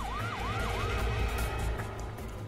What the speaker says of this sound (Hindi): ये सायरन की आवाज सुन रहे हो तुम दोनों ये वही सायरन है